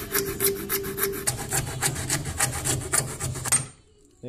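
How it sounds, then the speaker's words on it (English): Small mini hacksaw cuts through pipe held in a vise, producing steady rhythmic rasping strokes, close and even, stopping abruptly near the end. "I'm going to go ahead with this little mini hacksaw and start cutting away here."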